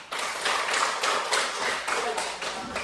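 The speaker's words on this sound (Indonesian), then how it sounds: "tepuk tangan dulu" A classroom of students claps hands together on cue in a lesson, a lively, sustained burst of applause with a few rhythmic swells, close and fairly loud.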